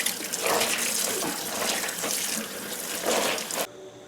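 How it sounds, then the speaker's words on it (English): Warm tap water running over a walnut-dyed shirt being rinsed in a sink, a steady splashing gush that shifts as the fabric moves, then cuts off abruptly near the end. "I'm rinsing with warm water."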